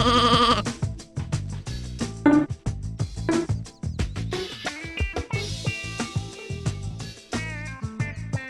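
Sheep bleat loudly and repeatedly in the Sheep, Dog 'n' Wolf video game, several wavering calls in quick succession over game music and effects.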